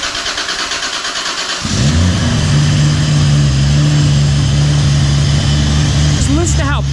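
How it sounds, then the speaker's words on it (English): A Toyota Supra, built to about 1300 hp, cranks and fires up at about 1.6 seconds, then settles into a loud, steady, deep idle with a slight rev near the end. A voice talks briefly beforehand. "Final startup in the Supra before the new build."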